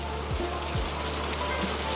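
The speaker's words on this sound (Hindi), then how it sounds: "बाहर अब भी तेज बारिश हो रही थी।" Steady heavy rain falling outside a poor village house during a storm, a dense, even hiss of drops on surfaces throughout, with no voices.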